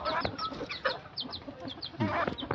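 White red junglefowl (labuyo) hen with her chicks, clucking in quick soft bursts mixed with high chick peeps, close and fairly quiet.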